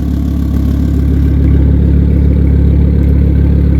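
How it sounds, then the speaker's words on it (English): A Volvo car fitted with an aftermarket exhaust and exhaust actuators idles close by, making a loud, steady, deep burbling rumble with no talking over it. "So it is a pretty healthy sounding little Volvo."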